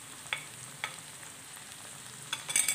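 Okra (bhindi) being stirred with masala in a pan: a soft steady sizzle with a few light scraping strokes of a spoon, then a cluster of sharper scrapes at the end.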